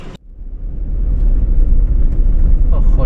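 A car's starter click is followed by a low engine rumble that rises and settles into a steady, close idle, with speech nearby.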